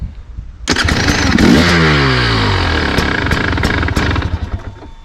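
A KTM EXC 300 two-stroke hard enduro motorcycle engine catches and clatters into a loud, close idle with rising and falling revs, sputtering unevenly before fading slightly near the end.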